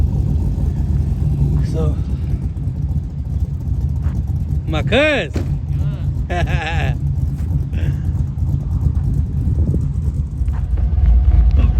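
A 2WD-swapped Yukon Denali truck engine rumbles steadily and close for the whole stretch, with people talking loosely over the idle.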